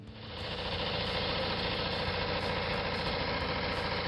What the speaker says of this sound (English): Uh-oh, our engine sounds different.